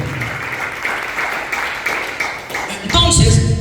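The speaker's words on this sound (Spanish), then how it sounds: "denle un fuerte aplauso al Señor" Church congregation applauding the Lord at a sermon, steady crowd clapping under a voice, swelling louder near the end.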